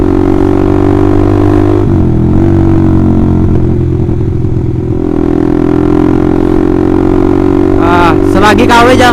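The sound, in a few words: loud aftermarket Austin Racing exhaust on Honda CBR150R motorcycle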